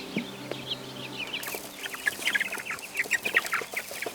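Chickens on a village farm cluck in short, busy bursts at close range, growing livelier and denser toward the end, over a quiet background.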